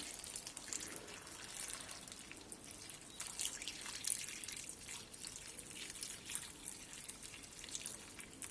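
Tap water at room temperature splashes and trickles steadily into a container over melon rinds, soft and close, with scattered drips throughout.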